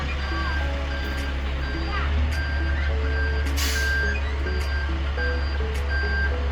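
A delivery truck reverses to dump a load of rock, its loud, steady reversing beeps repeating over a deep engine rumble and a brief air-brake hiss.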